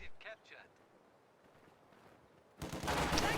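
An MG42 machine gun in a video game opens up suddenly after a quiet stretch, a loud, dense, continuous burst of rapid fire, following a brief voice at the start.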